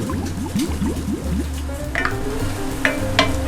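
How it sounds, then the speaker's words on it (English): White wine reducing over medium-high heat in a hot pan with chanterelle mushrooms, a steady close sizzle and bubbling with a few soft stirring scrapes and clinks, no voices. "I'm going to crank the heat back up to medium high and flash off the alcohol and reduce the wine down"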